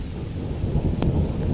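A low rumble of thunder during a storm on a lake, brief and deep with wind noise, one faint crack near the end.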